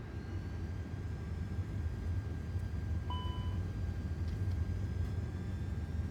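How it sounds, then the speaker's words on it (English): Airbus A330 engines during a takeoff roll on runway 35L in a flight simulator: a steady, broad roar with a low rumble runs continuously, plus a faint sustained whine and a brief high chime partway through, without speech. "Rolling takeoff. On runway 3-5 left. Takeoff."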